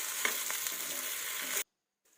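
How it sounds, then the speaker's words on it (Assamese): Potatoes tossed with turmeric and salt sizzle and crackle in a hot pan, an even, close frying hiss with a few stirring scrapes that stops abruptly after about a second and a half, leaving near silence. "এইখিনি ধুনীয়াকৈ আকৌ মিক্স কৰি লৈছোঁ"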